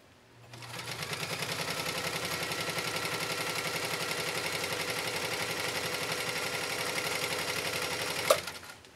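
A PFAFF Hobby 560Z sewing machine runs a 3-point stitch through a single layer of Italian leather, a close, loud, steady rapid clatter that carries on without a break for about eight seconds and then stops.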